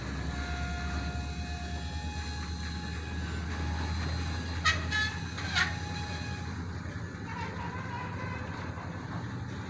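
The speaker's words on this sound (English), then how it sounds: "they begin the reverse move down the spur into the customer's track" A slow freight train reversing down a rail spur into a customer's track rumbles faintly in the distance, with a couple of brief metallic squeals partway through.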